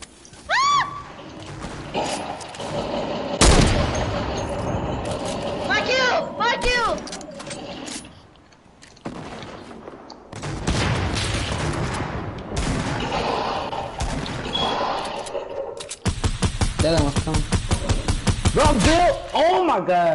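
Rapid automatic gunfire in a shooter game comes in dense bursts, loud and close, with a long sustained stretch near the end, as a player talks over the shots.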